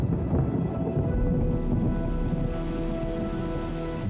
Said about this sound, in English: In the morning, the rains come.